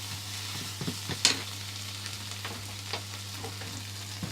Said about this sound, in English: add a tiny bit of water in, just a smidgeous of bit, and that will just help your vegetables cook but not burn